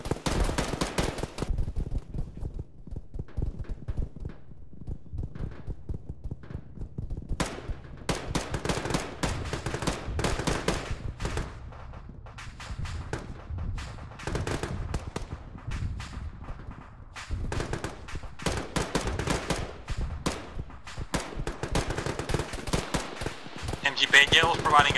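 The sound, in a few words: gunfire from squad fire support in the video game Arma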